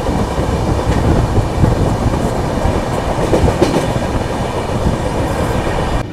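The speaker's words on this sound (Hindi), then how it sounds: "2-3 घंटे बाद हम वापस वडोदरा जंक्शन को स्किप कर रहे हैं अहमदाबाद पुणे दुरंतो एक्सप्रेस से" The Ahmedabad Pune Duranto Express runs through Vadodara Junction with a loud, continuous rumble and rhythmic clickety-clack of wheels on rails, heard steadily from inside the moving train.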